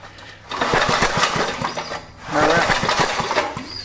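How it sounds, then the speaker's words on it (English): A small generator engine being cranked over during a no-start repair, heard as two loud, close bursts of rough mechanical chugging and rattling separated by a brief dip. "we're going to turn the engine over again"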